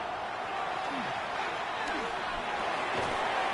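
Stadium crowd roar in Madden 26 during a 49ers at Bengals game fills the space as a dense, steady wash of cheering that swells slightly louder, with a play-by-play voice faintly under it.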